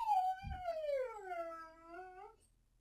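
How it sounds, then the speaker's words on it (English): A single dog lets out a drawn-out whimpering howl, close and fairly quiet, sliding downward in pitch over about two seconds with a brief thump near the start before fading out. "that was my dog"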